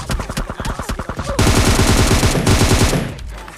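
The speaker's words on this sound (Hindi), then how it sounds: "एक फायर करता है।" An enemy gunshot in PUBG Mobile cracks out, followed by a rapid burst of automatic fire: about a dozen sharp, evenly spaced shots, then a dense, loud fusillade that tails off near the end.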